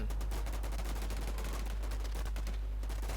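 Gunfire in the online survival shooter WarZ, a dense run of rapid shots crackling in quick succession, loud and close, continuing steadily for a few seconds with no speech.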